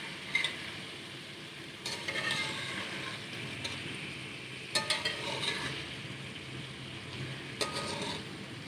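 Spiced okra masala with onion, tomato and green chilli stirred in a kadhai, with faint sizzling and soft scraping of a spoon against the pan, a few clinks and knocks standing out at a low volume.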